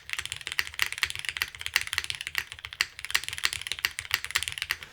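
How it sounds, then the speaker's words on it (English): Fast, close typing on a custom Fragment TKL mechanical keyboard, crisp clacky keystrokes in quick uneven bursts with no pauses. "I know the F keys are making noises, but I just wanted to see what they sounded like."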